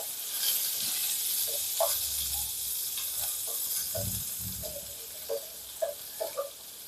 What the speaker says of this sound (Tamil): அப்படியே ஃப்ரை பண்ணிக்கலாம்.